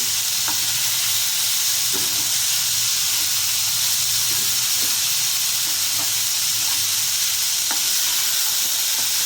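Cauliflower frying in a pan, a steady loud sizzle and hiss with occasional stirring scrapes and taps throughout, no voices.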